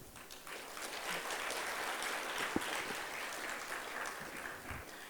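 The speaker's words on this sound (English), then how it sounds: "I would request you all to give a round of applause to Aman Ahmed." At a school graduation ceremony, a large audience gives steady, dense applause that holds at an even level from start to finish, with no speech over it.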